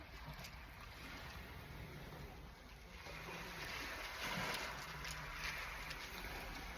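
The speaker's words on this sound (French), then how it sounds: "on va dormir ce soir au son des vagues" Ocean waves wash onto the shore of the east coast of Spain, a soft continuous surf rush that swells slightly midway, faint and distant with a low voice speaking over it.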